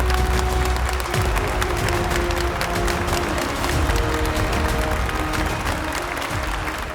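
Steady, loud applause from a large audience at an award ceremony as the presenter from a silk and saree shop walks on stage, dense clapping with some crowd noise and music hum underneath, holding for the full seven seconds.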